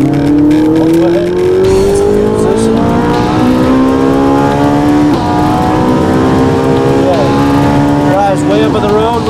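A race car accelerates hard on a track toward 200 mph, its engine roaring loudly and rising steadily in pitch through the gears. Voices talk over it.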